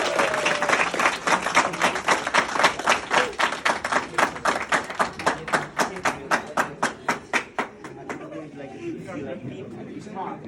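A group in a yoga class claps in unison, steady and brisk at about three claps a second, loud and close, gradually spacing out and fading near the end, followed by a few quiet voices.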